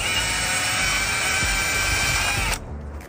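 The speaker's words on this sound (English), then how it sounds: "I can now drill my hole for the EMT conduit." A power drill bores a hole in an outdoor electrical enclosure for EMT conduit, a loud steady high whine close up that cuts off abruptly near the end.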